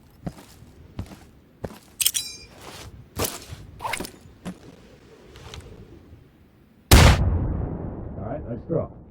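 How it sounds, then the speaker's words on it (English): A frag grenade goes off in the video game Insurgency as one loud, sudden blast with a rumbling tail. Sharp gunfire cracks and footsteps come before it. "throw a frag in there"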